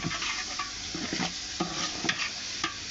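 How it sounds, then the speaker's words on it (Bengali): Rice frying with spices in a hot pan for vegetable khichuri, a steady close sizzle broken by repeated scraping strokes of a stirring spoon, with no talking. "চালগুলো দিয়ে খুব ভালোভাবে একসাথে ভেজে নিব।"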